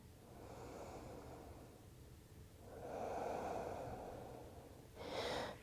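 Slow, soft breaths held in a yoga shoulder stretch, two or three long airy exhales close by, with a brief sharper breath at the end and no talking.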